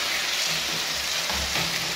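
Chicken gizzards frying in a pan give off a steady, close sizzle and crackle with a constant hiss and occasional low bubbling pops throughout.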